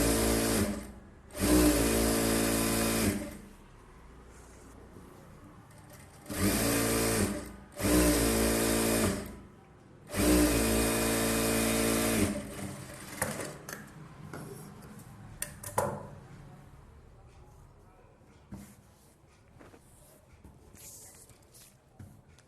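A sewing machine stitches a blouse in short bursts, several loud whirring runs of a few seconds each separated by pauses, with quieter handling and fabric rustles afterwards.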